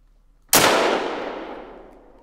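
A single 9.3 x 74R rifle shot in theHunter: Call of the Wild, fired while hunting Parque Fernando: a sharp, loud crack followed by a long rolling echo that fades over about two seconds.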